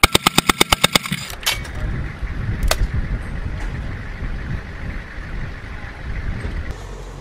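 An M2 Browning heavy machine gun at US military training fires a rapid burst of about eight loud, evenly spaced shots right up close, after which only open-air rumble and faint distant noise linger.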